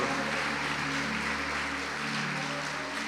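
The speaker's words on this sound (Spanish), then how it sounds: "Démosle esa fuerte ofrenda de palmas al que es la fuente inagotable de nuestro amor." Congregation clapping together in a church service, a dense continuous patter of applause holding steady for a few seconds with music droning underneath.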